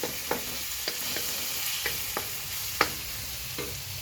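Tomatoes softening in a pan on a home stove, with a steady low sizzle broken by several brief clinks of a utensil stirring against the pan.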